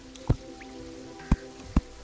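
Water drips in a cave in the video game Terraria: three separate close, hollow plops spaced unevenly over a faint steady background, with no talking.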